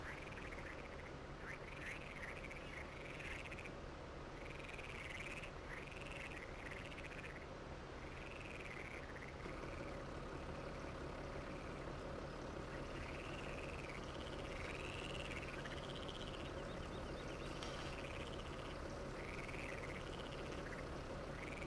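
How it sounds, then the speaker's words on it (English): Frogs croak in repeated chirping calls across a farming video game map, a steady chorus of short rising bursts over a constant ambient background, fairly faint and with no talking. "I hear them frogs."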